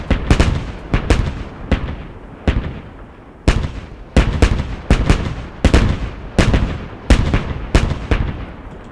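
Tank cannon shots in the Armored Squad video game: a steady series of about fifteen sharp, loud blasts at roughly half-second to one-second intervals, each cracking out and decaying quickly, with no talk.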